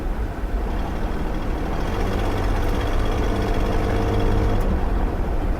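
A 2000 Nissan Xterra engine runs steadily while driving, a continuous low rumble and road drone from inside the cabin that holds even in level from start to finish with no speech.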